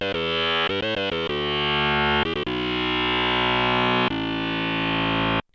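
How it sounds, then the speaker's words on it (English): An Arturia MicroFreak synthesizer plays a loud, heavily distorted sustained patch with rich harmonics, opening with a few rapid stabbed notes before settling into long held tones that shift pitch twice, then cutting off abruptly. "For instance, the Arturia Microfreak here."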